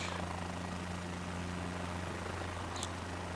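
A helicopter engine in Microsoft Flight Simulator 2024 gives a steady, even rotor drone with a low hum that runs throughout, with no talk over it.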